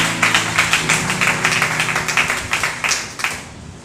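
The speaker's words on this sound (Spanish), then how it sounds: "Podemos darle un aplauso al Señor Jesús." A church congregation claps in praise to Jesus during a worship service, a steady run of close, rhythmic hand claps over a low sustained hum, with no speech.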